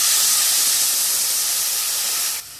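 Water poured into a hot pan of red-fried whole cumin and vegetables for a Bengali katla fish curry, giving a loud, steady steamy hiss and sizzle that runs unbroken for over two seconds, then drops off abruptly near the end.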